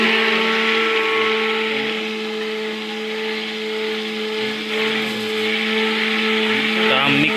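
A mixer churns butter at home for homemade ghee, giving a steady, loud whirring drone with a fixed motor hum, continuous throughout with slight rubbing variations and no talk.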